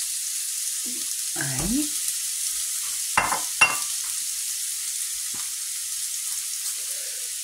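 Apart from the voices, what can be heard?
onion frying in hot oil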